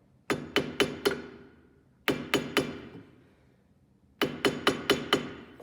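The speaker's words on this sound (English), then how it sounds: "put it on the mandrel and hold both of these sides and kind of squeeze a little bit and hammer on these parts" A metal hammer striking an adjustable ring on a mandrel in three bursts of four or five sharp ringing taps each, close and loud with brief pauses between, no talk.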